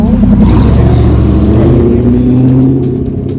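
A car passes close by on a neighborhood street, its engine noise loud and rising, then easing off as it moves away.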